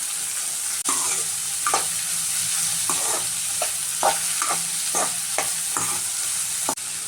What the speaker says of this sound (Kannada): ಈರುಳ್ಳಿ ಫ್ರೈ ಮಾಡಿದ್ದೀನಿ. ಹುಳ್ಳಿಕಾಯಿ ಹಾಕ್ತಾಯಿದ್ದೀನಿ ಮತ್ತು ಕ್ಯಾರೆಟ್ ಹಾಕ್ತಾಯಿದ್ದೀನಿ. ಇದು 1 ನಿಮಿಷ ಫ್ರೈ ಮಾಡ್ತೀನಿ.